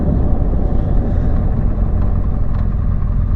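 A BMW GS boxer-twin motorcycle rolls along in steady, loud low rumble, the engine drone and wind noise constant throughout without any voices.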